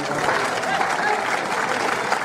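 Audience at an Arte Extremeño exhibition in Montánchez keeps up a steady, dense wash of clapping along, with crowd voices blended underneath.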